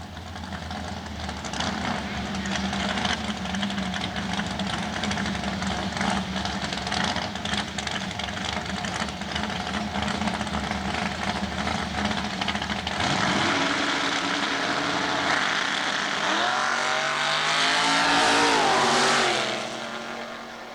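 Drag racing cars at Southeastern Dragway, a Chevy Nova and a Chevy Monza, roaring loudly and continuously, with a rising engine pitch sweep near the end as the cars accelerate down the strip, heard from trackside.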